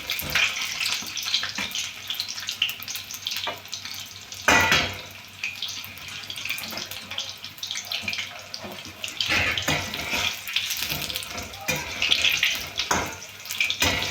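Green chillies fry in hot oil in a kadhai for bhaji, giving a continuous loud sizzle and bubbling hiss with occasional sharper spatters, heard close up with no talking.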